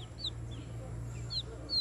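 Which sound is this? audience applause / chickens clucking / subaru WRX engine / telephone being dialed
chickens clucking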